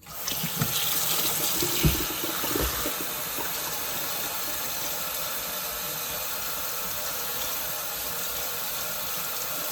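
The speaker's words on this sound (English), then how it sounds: "turn on some hot water, and let them run until they somewhat run clear" Hot water runs steadily from a tap into a sink, with a brief splash and clatter at the start as the flow begins, then an even rushing hiss that continues to the end.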